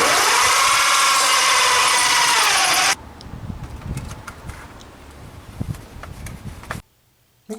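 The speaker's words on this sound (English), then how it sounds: "I'm going to go on the other side and drill from the exterior" A loud, steady whine of a power drill boring through an exterior wall for a clothes dryer vent runs for about three seconds, then stops, leaving clattering handling sounds and a brief silent gap.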